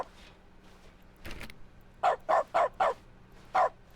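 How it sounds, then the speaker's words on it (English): A dog barks in the video game The Stanley Parable, with five short, clear barks: four in a quick, even run, then one more after a pause, set over a quiet hum. "We can bark now."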